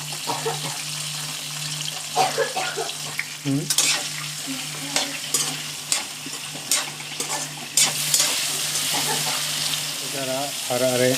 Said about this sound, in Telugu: వంకాయలన్నీ ఆయిల్లో వేసుకోవాలి.